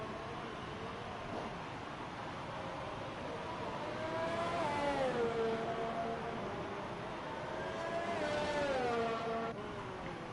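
A race car in a sim racing game runs a flying lap of the Abu Dhabi Grand Prix circuit. Its loud, continuous engine whine rises and falls in pitch through the corners, with no talk.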